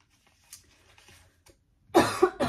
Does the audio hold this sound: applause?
no